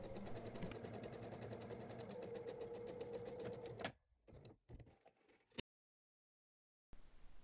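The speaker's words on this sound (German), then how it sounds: "An den Ecken die Nadel im Stoff stecken lassen, 90 Grad drehen und dann bis zum Anfang nähen, ein paar Stiche darüber hinweg und die Naht verriegeln." Sewing machine stitching a seam through fabric on a zippered bag, a steady close mechanical hum and rapid needle clatter that runs for about four seconds, then stops in short bursts before silence.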